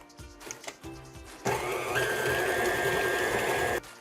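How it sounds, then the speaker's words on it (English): An electric mixer combines cookie dough after vanilla goes in. A steady motor whir runs for about two seconds, following some lighter clattering and shuffling. "we're going to turn the mixer back on and get this fully combined"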